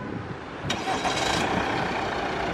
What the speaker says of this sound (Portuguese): O carro, deixa eu tentar fazer o ligamento aqui